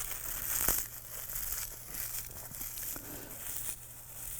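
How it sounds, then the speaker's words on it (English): Hands crumple dried seaweed sheets into flakes, giving soft, continuous crinkling and rustling with a few sharper crackles, close and fairly quiet. "If not, you can just crumple it up with your hands."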